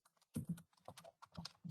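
Typing on a computer keyboard, close and fairly quiet, irregular bursts of key clicks with short pauses between them and no speech.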